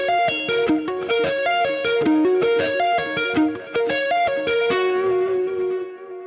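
Electric guitar played with hybrid picking, pick and fingers alternating in a quick, steady run of bright, effects-laden notes, loud and close, ending on a held ringing note.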